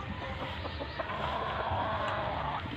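Chickens, including a large-combed broodcock rooster, cluck in a noisy backyard pen, with scattered soft clucks over a dense, steady wash of background noise.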